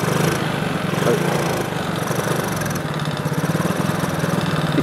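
A quad bike engine with a bad carburetor runs at a rough, uneven idle, a close, continuous buzzing drone with slight wavering in its pulse and no speech.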